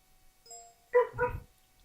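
Several dogs bark at someone arriving home, a couple of short, muffled barks in quick succession from another room, faint and distant.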